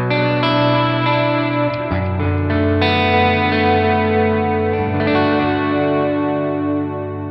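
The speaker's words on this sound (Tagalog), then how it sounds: "padinig ko sa inyo yung delay. Mga delay niya and reverb." Electric guitar run through delay and reverb effects on a Valeton GP-100 multi-effects unit, sustained loud chords with echoing repeats and a lush reverb tail that ring on continuously without pause.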